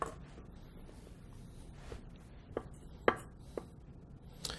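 A knife dices food into small cubes on a cutting board, giving a few soft, sparse taps and one sharper chop over a quiet background.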